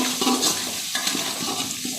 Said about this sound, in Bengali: দিয়ে দেব এবার এটাকে ভালো করে নাড়িয়ে চাড়িয়ে